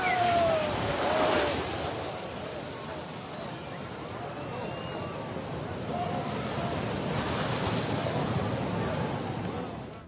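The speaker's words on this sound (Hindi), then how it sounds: "नदियां उफान पर।" A swollen, flooding river in Assam during heavy monsoon rains gives off a continuous, loud, broadband rushing roar that holds steady throughout with no pauses.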